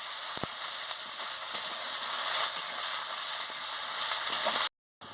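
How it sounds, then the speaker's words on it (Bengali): Spice paste with ground ginger frying in a pan for a cauliflower curry, a steady close sizzle with faint stirring clicks, cut by a brief silent gap near the end. "আদা বাটাও দিয়ে দিচ্ছি, দিয়ে মশলাটাকে ভালো করে কষিয়ে নিচ্ছি।"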